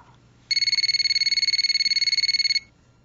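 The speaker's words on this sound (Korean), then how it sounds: "전화 벨소리에 잠이 깼습니다" A telephone rings once with a bright, rapidly trilling electronic tone lasting about two seconds, clear and alone against a quiet background.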